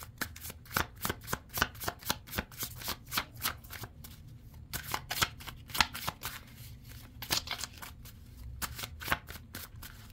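Tarot cards are shuffled by hand in repeated quick riffles and taps, a rhythmic run of crisp papery bursts lasting about ten seconds, close and fairly quiet with no talking.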